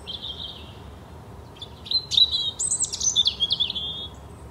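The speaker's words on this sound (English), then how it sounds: "in the very early morning, even before it's light, you'll hear the robins singing" A European robin sings a thin, high, wavering warble of short trilling phrases, clear and fairly close above a quiet background hum, alone without voices.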